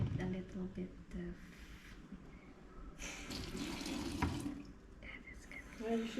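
Water running from a kitchen tap while iced coffee is being made, a steady soft hiss and splash that swells midway, with people chatting quietly over it.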